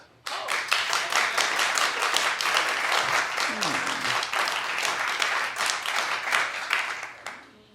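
A television talk-show studio audience claps loudly and steadily for several seconds, with brief talk underneath before the applause tapers off.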